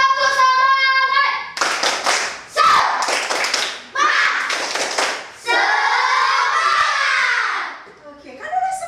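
A school class doing a rhythmic spirit clap, bursts of hand claps mixed with children chanting and shouting, loud and close, with a teacher's voice between the bursts.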